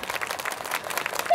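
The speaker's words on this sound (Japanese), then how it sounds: "素晴らしかったという方、拍手よろしくお願いします。" An audience at a SUPERFORMULA talk show at Mobility Resort Motegi applauds the kick-off ceremony: a brief burst of dense, even clapping from a crowd, fairly loud and close.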